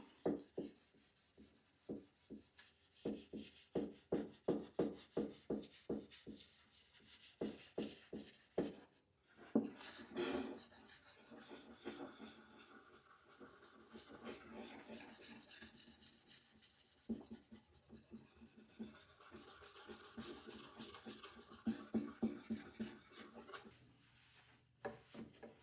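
Fine steel wool rubbed lightly over the finished wooden cabinet of a 1932 Philco 80 Jr radio, giving soft rhythmic back-and-forth scrubbing strokes, quiet and close, with brief pauses between bursts.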